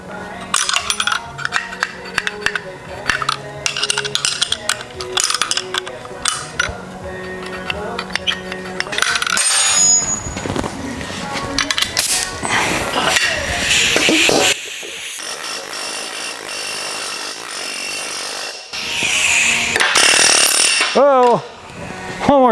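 Homemade pneumatic handheld planishing hammer, a slapper spoon, working metal: loud, dense, continuous rattling and clattering hammering that shifts in tone as it goes, with brief high metallic rings near the end.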